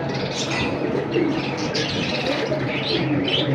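Pigeons kept for sale coo continuously in a close, dense chorus, with overlapping throaty rolling calls and occasional chirps filling the whole stretch.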